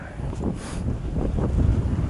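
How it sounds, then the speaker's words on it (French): Strong gusting wind buffets the microphone with a loud, continuous low rumble that swells and eases over a couple of seconds. "il y a beaucoup de vent aujourd'hui"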